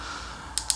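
Two quick, crisp key presses on the keypad of a TALKCOM TC-988 Plus hybrid POC three-band 10W radio, close and clear over a soft room hiss.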